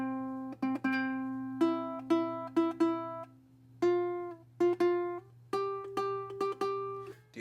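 Plucked ukulele notes ring out alone in a short melodic phrase, single notes and a few quick pairs, clear and close.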